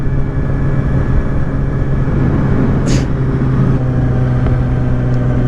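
A Yamaha R6 streetfighter motorcycle being ridden, its engine a steady loud drone with a strong low hum and rushing wind noise, close and constant with no voices.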